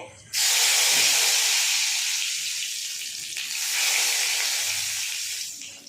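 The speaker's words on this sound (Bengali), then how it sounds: "তেল গরম হয়ে গেছে, এবার কালো জিরে ফোড়ন দিয়ে" Black cumin seeds hit hot oil as tempering for Bengali beetroot bata, giving a loud, steady broadband hiss and sizzle that starts abruptly and holds for several seconds, swelling slightly midway before easing off, with no talking.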